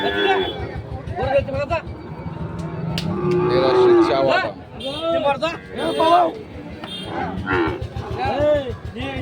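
Sahiwal bull calves low loudly and repeatedly at the Ambari cattle market in Dinajpur, close by and over a constant babble of people talking.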